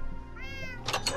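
A pet cat gives a single short, close meow, rising in pitch, followed by a brief rustling scrape, with no talking.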